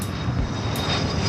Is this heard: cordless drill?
no